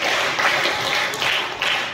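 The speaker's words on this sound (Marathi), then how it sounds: "Scout guide clap go." Schoolchildren at a school speech competition clap together in a sustained wash of applause with a few rhythmic pulses, filling a hall at moderate loudness.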